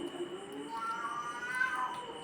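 A cat meows nearby in a home, one drawn-out, wavering call rising and falling over a couple of seconds against quiet background hum.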